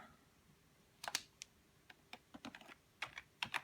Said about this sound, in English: Type in a username.